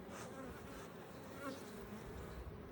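Bees buzz steadily inside a beehive, one sitting in a comb cup, a close, continuous insect drone holding through the whole stretch with slight swells in loudness.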